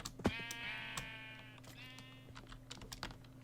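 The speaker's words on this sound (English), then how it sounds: "Oh, yeah, there's some sheep." A couple of sheep bleat in Minecraft, two drawn-out wavering bleats at moderate volume over a steady low hum, with keyboard typing clicks scattered throughout.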